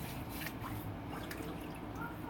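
Water is splashed onto the face from a lather bowl before a wet shave, giving soft, faint drips and splashes against a quiet room background.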